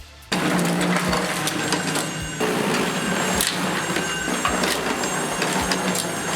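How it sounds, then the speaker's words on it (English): A Toro 60V battery-powered single-stage snowblower chewing through sticky packed snow, starting abruptly into a loud continuous churning roar with crunching clumps and knocks, briefly dipping then resuming, close and without talking. "Here I am using it on sticky packed snow."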